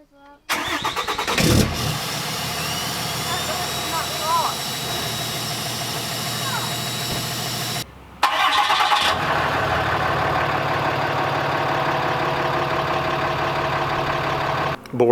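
A 2018 Ram 2500 Limited pickup with a Cummins diesel engine starting by remote, cranking and catching, then settling into a steady idle with a brief break partway through before the engine noise resumes.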